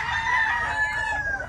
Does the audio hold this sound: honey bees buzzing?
no